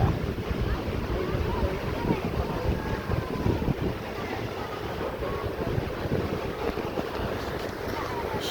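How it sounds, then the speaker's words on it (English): A ferry cruising on open water in the Philippines, with a steady rush of wind and churning waves against the hull, constant and fairly loud throughout. "Ferry."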